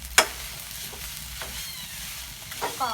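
Sausage fried rice sizzles in a pan as a spatula clanks sharply against the metal early on, followed by softer scraping stirs under a steady, quiet frying hiss.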